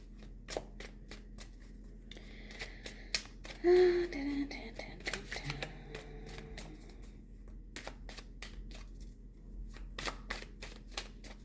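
Tarot cards are shuffled in quick crisp bursts, with soft murmurs and a faint breath in the middle, close and quiet.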